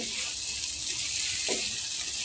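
Five-spice potato and pumpkin bhaji fries in a pan, a steady soft hiss and sizzle with a faint stirring scrape, close and quiet, no voices.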